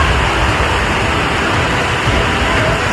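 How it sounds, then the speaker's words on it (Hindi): Torrential floodwater surges after a cloudburst, a loud, dense, unbroken roar of rushing water with no pause. "पानी का ये प्रचंड प्रवाह प्राकृतिक विपत्ति की खौफनाक व्याख्या कर रहा है।"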